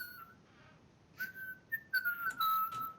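Someone whistles a short, wavering tune in a few bursts, fairly close, with slight background noise and no talking.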